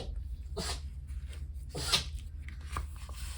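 A dog sneezes a couple of times in quick succession, sharp snorting bursts close by with a quiet room behind.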